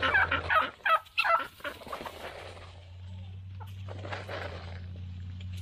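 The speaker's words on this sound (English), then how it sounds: "Silly birds." Farm birds call loudly and nearby in a few quick, harsh bursts, then drop to a quieter, softer murmur against a low steady background.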